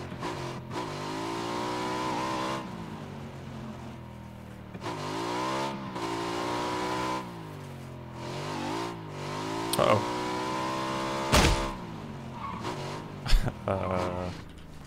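A three-seater motorcycle in PUBG runs with a continuous engine drone that rises and falls as it accelerates and eases off, with a few sharp transients near the end, while someone talks over it.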